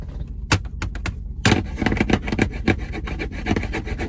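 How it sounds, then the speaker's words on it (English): Repeated scraping strokes of a knife on a sharpening surface in a prison, a steady rasping rhythm close by, with no talking. "You can hear people sharpening knives."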